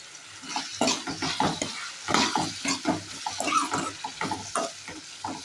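Turmeric and salt sizzle in hot oil while being stirred for a Gujarati brinjal curry, a close steady fry crackle broken by repeated scraping strokes of a spoon in the pan.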